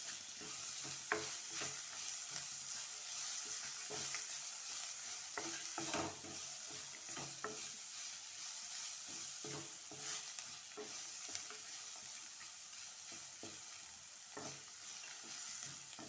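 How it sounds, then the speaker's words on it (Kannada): Masala with turmeric powder stir-fries in a pan for masala rice, making a continuous dense sizzle. Soft, irregular scraping strokes of a spoon recur throughout at a moderate, even level with no voices. "ಒಂದು 2-3 ಮಿನಿಟ್ಸ್ ಮಸಾಲೆ ಹಾಕಿದ ಮೇಲೆ ಫ್ರೈ ಮಾಡ್ಕೊಳ್ಳಿ"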